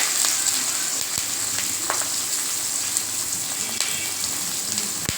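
Onion and curry leaves sautéing in a pan make a continuous, even frying hiss, loud and close, with faint stirring scrapes and no voices.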